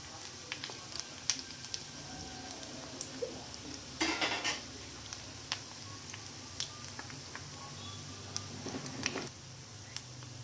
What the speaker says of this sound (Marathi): गोल्डन ब्राऊन कलर येईपर्यंत आपण याला फ्राय करून घेऊया.